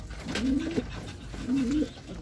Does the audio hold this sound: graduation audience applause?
no